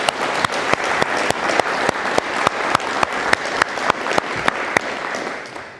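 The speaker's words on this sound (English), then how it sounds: "How about a round of applause?" Audience at a military chiefs recognition ceremony on an air force base breaks into applause, a sustained crowd clapping with sharp regular accent claps, fairly loud and steady before tapering off at the end.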